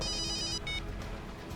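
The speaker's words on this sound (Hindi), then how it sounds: "सर का फोन।" A telephone rings in an office scene from a crime drama, a bright electronic ringtone trilling alone with a short break before a second burst.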